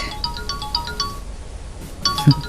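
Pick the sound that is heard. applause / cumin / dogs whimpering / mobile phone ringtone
mobile phone ringtone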